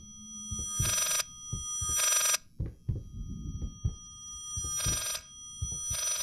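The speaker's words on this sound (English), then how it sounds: "Oh, it's a phone." A telephone rings in the horror video game Layers of Fear, four long bursts of bright electronic ringing separated by pauses, over low thumping footsteps and ambient rumble, with no talk.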